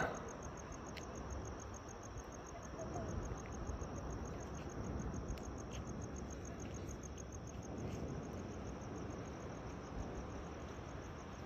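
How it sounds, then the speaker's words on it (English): Crickets chirp steadily through a quiet night near Asheville, a faint, even high trill running unbroken under soft background noise with no voices. "And the crickets, do you hear the crickets?"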